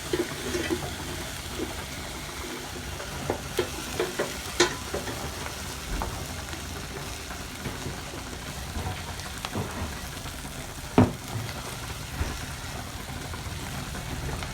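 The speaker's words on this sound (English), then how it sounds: "So as the spices are cooking and the onions are still cooking" Spices and onions fry steadily in a pan while meatballs are being made, giving a soft continuous sizzle with scattered light crackles and an occasional sharper tick, with no voice.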